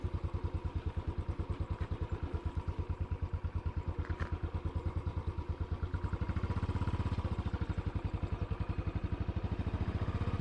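A motorcycle rides along winding country lanes in Gloucestershire, its engine a steady close pulsing drone throughout that swells louder and deeper after the midpoint as the rider accelerates, with no talking over it.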